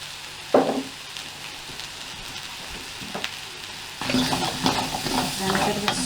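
A hot pan of leeks, carrots, mushrooms and peppers frying for chicken chasseur holds a low sizzle with a sharp knock early on, then a louder burst of stirring and spitting fat toward the end.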